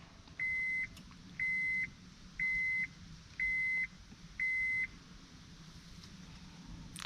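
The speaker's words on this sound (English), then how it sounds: "Ooh, that beeping is loud." A 2005 Honda Pilot sounds five loud, evenly spaced electronic beeps during key programming, each lasting about half a second, over a low steady idle hum, with no talking.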